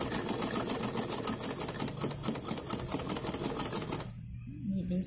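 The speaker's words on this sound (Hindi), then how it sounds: "ये हम इसकी सिलाई करते हुए कंप्लीट कर लेंगे" A sewing machine runs close up, stitching a salwar waistband belt with a rapid, regular needle clatter that stops near the end.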